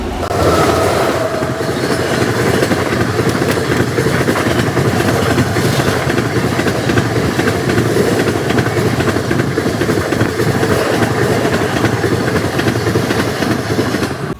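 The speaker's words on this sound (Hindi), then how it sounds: "अपनी देहरादून नई दिल्ली शताब्दी एक्सप्रेस जो है ना 1:30 में आ रही है" The Dehradun–New Delhi Shatabdi Express passes a railway crossing at close range, a loud, steady roar of wheels and carriages with rhythmic clatter that fills the whole stretch without letup.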